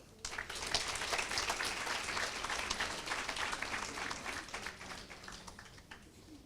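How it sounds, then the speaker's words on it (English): Audience applause fills a ceremony hall after an address at a fourth-year pledge ceremony, dense steady clapping from a sizable crowd that swells quickly and then gradually thins toward the end. "Can we please give Dr. Abdullah another round of applause for that illuminating address?"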